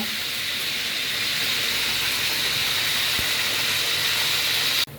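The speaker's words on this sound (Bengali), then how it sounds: "মুরগিটাকে উল্টে পাল্টে দিচ্ছি দেখতেই পাচ্ছেন তেল ছিটে কি অবস্থা" Chicken pieces frying in hot, splattering oil for a roast, held under a lid and turned, give a loud, continuous sizzling hiss that cuts off at the end.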